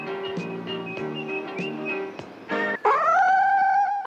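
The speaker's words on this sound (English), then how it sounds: "the iconic trumpet cat noise that everybody knows so well" A cat lets out a loud, drawn-out brassy wail, rising then holding a strained tone like a trumpet, close up with no talking.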